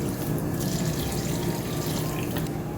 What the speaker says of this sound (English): Alright, pasta's good. It's al dente. Let's drain that.